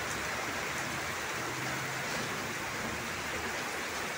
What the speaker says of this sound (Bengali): দেখেন রোড ঘাট ভরিয়া গেছে, ধুমসে বৃষ্টি হইতেছে।